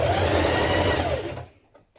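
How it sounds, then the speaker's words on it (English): A sewing machine runs fast and steady while stitching a small double-fold hem on a dress ruffle, a loud close whirring hum that cuts off abruptly and leaves near silence. "Now stitch a small hem on the bottom of your ruffle."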